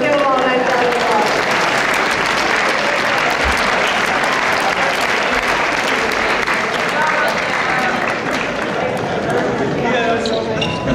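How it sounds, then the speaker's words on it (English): Loud, sustained applause from an audience at a school academic awards ceremony, a thick wash of many hands clapping continuously with crowd murmur underneath. "So let's give them all a nice round of applause"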